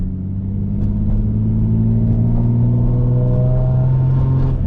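A built turbocharged Nissan 350Z accelerating on the road, heard from inside as a steady, loud engine drone that climbs gradually in pitch over a deep rumble.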